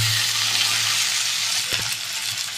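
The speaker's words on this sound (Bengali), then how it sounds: "নুন দিয়ে দিয়েছি, ভালো করে ভেজে নেবো" Potatoes fry in hot oil with turmeric and salt, giving a steady, close sizzle that holds throughout, with a brief clink of a utensil partway through.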